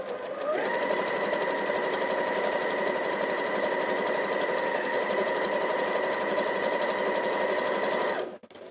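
A sewing machine joins quilt strips with a 1/4 inch seam, running at a steady, even whir for about eight seconds before stopping abruptly; no voices.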